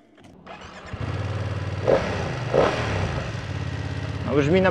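A BMW F900R motorcycle engine cranks and catches, then settles into a steady low idle with two brief blips of revving, while voices talk over it.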